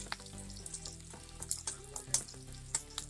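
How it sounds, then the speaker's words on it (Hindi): Garlic and green chili frying in hot oil for a saag of chickpeas and greens, a steady close sizzle with scattered crackles and pops and low hum from the stove. "तो 10 से 15 सेकेंड में इसको लहसुन को और मिर्ची को तेल में ही पका लेती हूँ"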